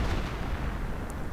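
Artillery fire rumbles in a World War II strategy game, a dense continuous roar of distant blasts with a faint high ping near the end and no talk.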